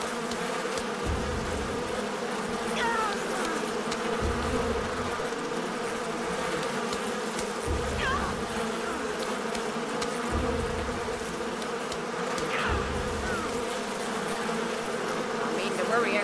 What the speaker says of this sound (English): I don't want to hurt the bees.